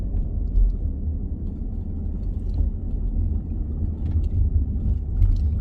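A car rolling along a scenic drive past huge boulders in the Alabama Hills near Lone Pine, California, heard from inside as a steady, loud low rumble of engine and road noise with no talking.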